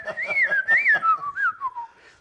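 A person whistling a melodic phrase alone, clear and close, with gliding pitch, a few short rhythmic notes and a falling run at the end that fades out.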